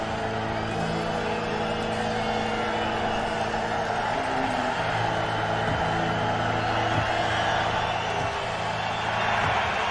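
Dense, steady roar of a football stadium crowd during a college playoff game (FCS Delaware vs Montana) near the goal line, a broad continuous wash of noise with faint rumbling undertones throughout.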